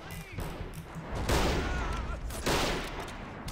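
Infantry riflemen fire in the World War II strategy game Men of War Assault Squad 2, a dense, continuous crackle of overlapping rifle shots and distant blasts rolling for a few seconds, fairly loud and steady throughout.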